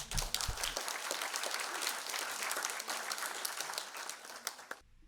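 An audience at a Chinese poetry competition ceremony applauds warmly after children recite Chinese poems. The clapping is dense and sustained, somewhat distant and faint, and cuts off abruptly at the end.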